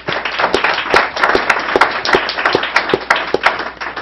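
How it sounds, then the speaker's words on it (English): Applause at a conference on information freedom, a crowd clapping steadily for four seconds with sharp individual claps standing out over a dense, lively patter. "I wanted all of us to give an applause to Christine Kay"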